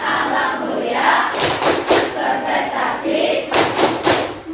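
Children chant a rhythmic clapping cheer, tepuk al-mujahidin, in a classroom religious lesson: several sharp groups of claps land amid a dense, steady wash of young voices chanting together.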